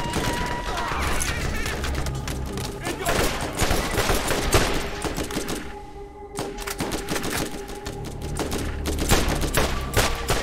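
Borderlands shooter combat: a loud, dense fusillade of gunfire with rapid automatic bursts and scattered blasts, including a grenade explosion, running nearly continuously with a brief lull midway and talk underneath.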